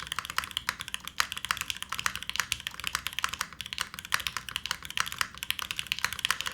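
Steady, fast typing on a Spectacle 80 top mount mechanical keyboard, a dense run of crisp clacky keystrokes close up with no talking.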